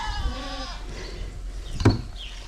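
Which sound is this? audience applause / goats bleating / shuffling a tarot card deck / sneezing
goats bleating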